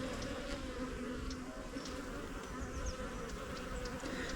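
Honeybees buzz in a dense, continuous drone while a hive is opened for inspection. The hum is fairly faint and steady, with occasional individual bees flying close past.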